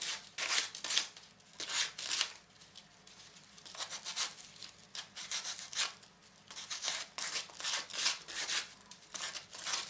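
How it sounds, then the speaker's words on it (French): Homemade wooden clothing buttons have their edges filed with old sandpaper, giving a rapid series of dry, scratchy rubbing strokes in irregular bursts, close and fairly loud, with no talking. "On lime un peu les bords avec du papier de verre."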